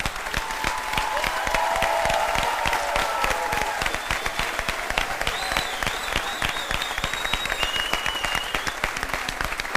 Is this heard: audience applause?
yes